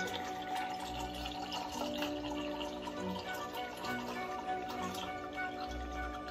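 Water runs steadily from a reverse osmosis faucet into a large IKEA glass, a soft continuous trickle and fill sound, close and quiet with no talking.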